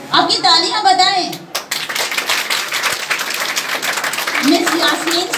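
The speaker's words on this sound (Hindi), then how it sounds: "आपकी तालियां बताएं।" Audience applause fills a Teacher's Day celebration, dense steady clapping from a crowd that carries on for several seconds, with a voice and other talk audible early on.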